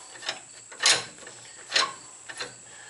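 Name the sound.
rod being screwed into the adapter on a wheel hub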